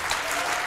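A studio audience on a Turkish daytime television show breaks into applause as a guest walks in, a brief, full and even burst of clapping.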